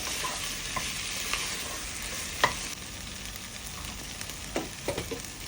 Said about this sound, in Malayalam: ആ തക്കാളി നല്ല സോഫ്റ്റ് ആവുന്ന വരെ സോട്ട് ചെയ്യുക.